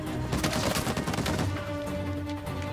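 Machine gun fire in the action video game Uncharted 4, a burst of rapid, loud gunshots over a continuous game soundtrack drone.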